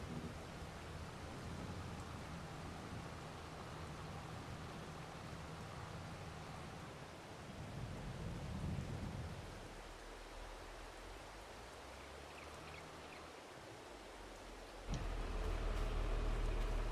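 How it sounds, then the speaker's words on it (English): Rain and thunder in the Farming Simulator 22 farming game, a steady hiss of rainfall with a low rumble swelling near the middle and a heavier rumble near the end, no talking. "park it somewhere and wait for the rain to stop"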